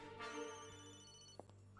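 A phone ringtone from the Tomb Raider video game, Von Croy's apartment level, sounds as a steady electronic melodic tone over in-game background sound, with a brief sharper blip near the end.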